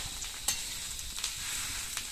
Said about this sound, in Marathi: तिला एक फोडणी म्हणून एक चरका म्हणून कांद्यावर द्यायचा